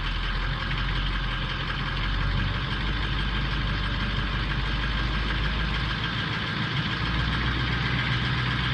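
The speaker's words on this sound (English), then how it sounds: "Let's give it a little throttle." A 2004 Ford King Ranch truck engine runs with a little throttle, a steady low idling rumble with a slight rise in intensity partway through, close and continuous.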